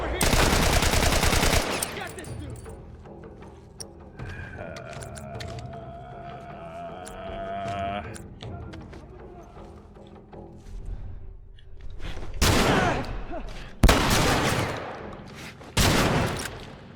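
Gunfire in The Last of Us video game, loud bursts of rapid shots at the start and again near the end, with quieter game sounds and tonal effects in between.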